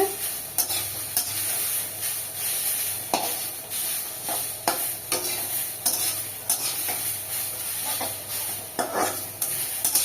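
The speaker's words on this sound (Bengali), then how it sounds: "খোসাটা ভাজা হয়ে গেছে" Ridge gourd peels sizzling in a pan while a spatula scrapes and stirs them in frequent, irregular strokes, close up and steady throughout with no voices.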